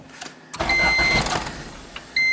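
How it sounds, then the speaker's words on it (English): A Honda Civic with its fuel cut off cranks briefly without catching: a short burst of starter motor whir and engine turnover, close and fairly loud, followed by a sustained electronic chime. "So now we can try to start the car."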